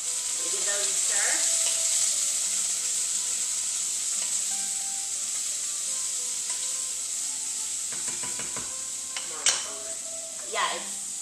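Green or white onions sizzle loudly in a pot as a spoon stirs them, a bright steady frying hiss broken by a few scraping strokes and clinks near the end, close and with no talk.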